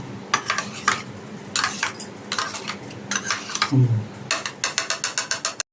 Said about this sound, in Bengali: ভালো করে সর্ষেটাকে একটুখানি জলের মধ্যে মিক্স করে 10 মিনিট মতন ছেড়ে রাখবো।